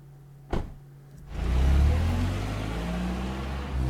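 A cartoon-style car noise from a Japanese cartoon: a sharp knock, then an engine rumble that swells loudly and holds steady as the car pulls away, with no voices.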